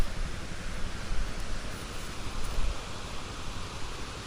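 Water released from Mattupetty dam in Munnar rushing fast, a loud steady broadband roar with no breaks, heard close and alone.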